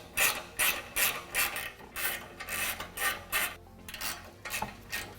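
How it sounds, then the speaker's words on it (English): An 8mm socket ratchet unbolts the muffler on a 2016-2018 Ford Focus RS, with repeated clicking ratchet strokes in a steady rhythm of about ten pulls, close and moderately quiet. "then with an 8mm socket, unbolt it from the muffler"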